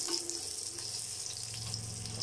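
Small shallots sautéing in hot oil for a mint and coriander chutney, a steady, close sizzling hiss with a low background hum, continuous and without talk.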